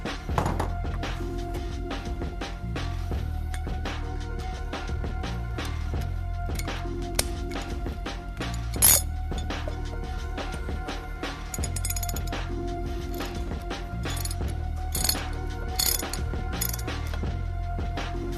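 A ratchet wrench tightening the axle bolt on a sportbike during a brake pad job, with steady rhythmic ratcheting clicks and mechanical clinks running throughout at close range, occasional louder clunks, no talking.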